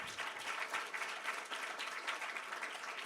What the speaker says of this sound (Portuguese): Palmas para o Otávio